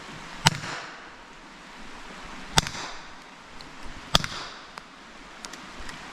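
Umarex HDP-50 compact pistol fired at targets, three sharp, loud shots spaced about two seconds apart, each a crisp crack over quiet outdoor ambience, with a fainter pop near the end.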